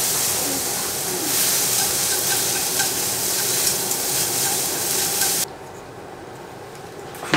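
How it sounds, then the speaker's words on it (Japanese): Food being stir-fried in a pan over medium heat, a steady close sizzle with stirring scrapes that runs for about five seconds before dropping to a quieter hiss. "中火で3分ほど炒めます"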